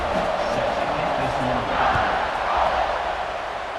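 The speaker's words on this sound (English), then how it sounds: "this crowd is buzzing after that last score" Stadium crowd in a college football video game, LSU at Alabama, keeps up a steady buzzing roar after a score, with a broad swell of noise rising and falling slightly across the stretch.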